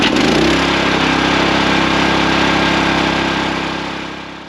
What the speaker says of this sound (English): I'm going to get this log splitter fired up